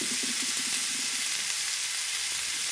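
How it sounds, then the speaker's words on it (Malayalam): Chopped onions sizzle and fry in a pan for a home-cooked coconut curry, a steady close hiss with faint low stirring knocks early on, no voices. "ഉള്ളി ഇനി നമുക്കിതിനെ ഒന്ന് വഴറ്റി നല്ല ഒന്ന് മൂപ്പിച്ചെടുക്കണം"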